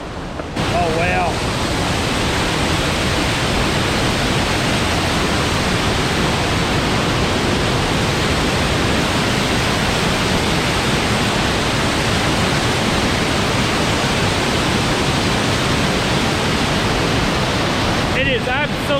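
Steavenson Falls in the Victorian High Country in full flow, a loud, unbroken roar of falling water that fills the whole stretch without letting up.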